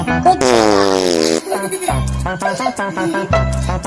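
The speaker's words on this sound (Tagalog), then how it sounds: "Sino umutot?" A loud, drawn-out fart with a descending buzzy tone lasts about a second, followed by sustained high-pitched voices and chatter.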